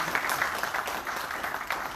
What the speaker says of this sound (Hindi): गुरु जी महाराज को एक बार जोरदार तालियों से धन्यवाद करते हैं।